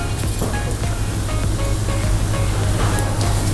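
Hot water poured into granulated sugar at a 1:1 ratio for a kunafa syrup, a loud, steady, close rushing splash that runs unbroken with no talking.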